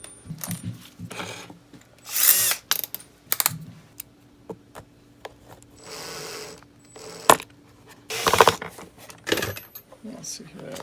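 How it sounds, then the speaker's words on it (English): A small electric drill runs in short bursts, boring a pilot hole for a self-tapping wood screw on a Ford F150 fuel door, with clicks, taps and rattling handling noises between the brief whirring runs. "I'm using a 5/64 inch drill bit, and I want to be as straight as I can"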